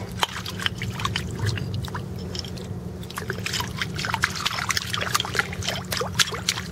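Water poured over a fossil find on a beach to wash it off, a continuous close splashing and trickling with scattered drips and clicks over a low outdoor background.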